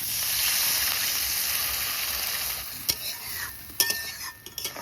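Water poured into a pan of sizzling prawn masala with small chopped shrimp, giving a steady close hiss and sizzle with a few sharp clinks and scrapes of stirring toward the end.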